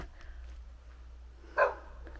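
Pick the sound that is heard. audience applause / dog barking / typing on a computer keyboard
dog barking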